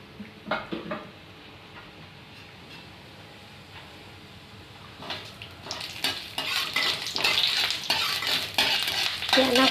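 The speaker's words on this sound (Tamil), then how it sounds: "தாளிக்கிறதுக்கு கடுகு, உளுத்தம்பருப்பு சேர்த்துக்கிறேன்." Mustard seeds and urad dal crackle in hot oil in a kadai while tempering for a black chana sundal, starting as quiet stirring and rising into loud, dense sizzling and popping in the second half.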